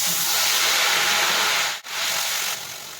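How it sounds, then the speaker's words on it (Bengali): A paste of ginger, garlic, tomato, green chili and onion sizzling in hot oil in a pan, a loud continuous hiss with a brief dip midway, no talk. "ফোড়নটা ভাজা হয়ে গেলে এই পেস্ট যে পেস্টটা বানিয়ে রেখেছিলাম আদা রসুন টমেটো কাঁচা লঙ্কা পেঁয়াজ সব দিয়েছি"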